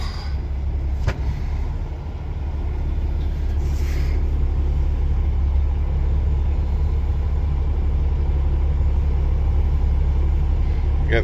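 Freightliner truck with a failed clutch, its engine cranked and started while in gear, giving a steady loud low diesel rumble that runs throughout with a brief disturbance early on.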